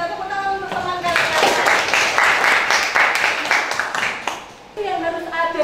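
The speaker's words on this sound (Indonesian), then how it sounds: "Tepuk tangan untuk teman kalian" A classroom of students breaks into applause for their classmates, a dense burst of clapping lasting a few seconds, framed by a teacher's speaking voice before and after.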